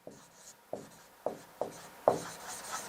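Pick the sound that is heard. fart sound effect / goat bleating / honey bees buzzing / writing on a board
writing on a board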